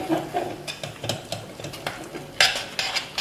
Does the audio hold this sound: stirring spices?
yes